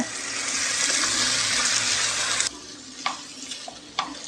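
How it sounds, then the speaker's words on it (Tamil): Fried chicken pieces being tossed and mixed into a Chicken Manchurian sauce in a pan, giving a steady wet sizzling hiss for a couple of seconds before dropping to quieter scraping and stirring clatter. "போட்டு எல்லா பக்கமும் சாஸெல்லாம் கலக்கிற மாதிரி கலந்து விடுங்க."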